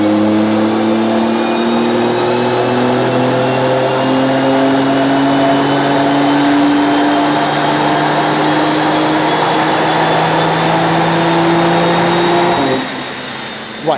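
A remapped turbocharged family car engine revs hard on a dynamometer during its first tuning run, a loud sustained drone with rising pitch that holds steadily for about twelve seconds before abruptly cutting off.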